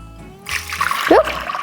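Water is poured and stirred together with lemon juice for homemade applesauce, a brief close splash and trickle of liquid that rises quickly and fades after about a second.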